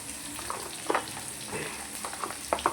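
Spiced brinjal curry with turmeric, coriander powder and homemade masala being stirred in a pan, a soft sizzle broken by a few scraping spoon strokes, quiet and close with no talking.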